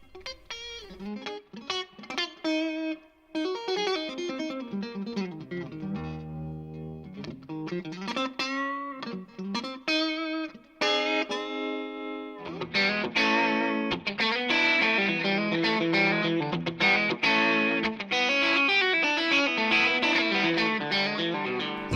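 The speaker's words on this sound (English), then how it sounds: "Onboard reverb adds depth and dimension to every tone the Custom Series has to offer." Electric guitar played through a VOX Custom Series amp with onboard reverb, distorted, reverberant tone, chords and single notes ringing out and sustaining for a long stretch.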